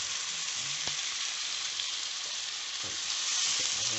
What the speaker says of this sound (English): I am going to put the noodle into the pan